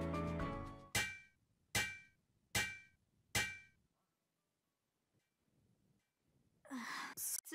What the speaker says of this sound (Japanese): それじゃあハンマーで叩くわよ